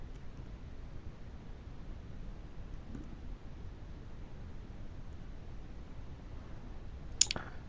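A single short mouse click on a website's login button lands near the end, over a faint, steady background hiss with no talking.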